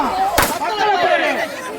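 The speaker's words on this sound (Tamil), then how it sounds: "ஃபுல்லா ஊதிட்டே இருக்கும். அதான் வெடிக்கும்." A single sharp pop of a balloon bursting during a Pongal festival game, heard up close under a lively crowd and voices talking over it.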